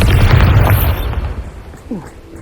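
A Bombarda spell blast in Hogwarts Legacy erupts as a loud, rumbling burst that swells for about a second and then slowly fades, followed by a short whooshing swipe.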